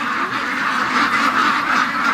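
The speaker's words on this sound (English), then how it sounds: "Oh, the crazy ducks." A flock of farm ducks at a swamp quacks loudly and continuously at dawn, overlapping calls in a noisy, excited chorus close by.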